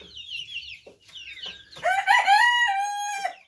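Bantam Cochin rooster in an aviary, soft clucks followed by a loud, close crow that holds steady for over a second before cutting off.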